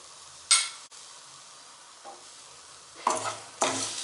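Coconut and coriander powder roasted and stirred in a pan for a Tamil sundakkai kuzhambu, heard as short scraping bursts of stirring with soft sizzling between them, close and alone.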